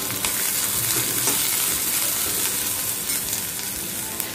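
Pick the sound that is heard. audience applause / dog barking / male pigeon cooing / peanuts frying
peanuts frying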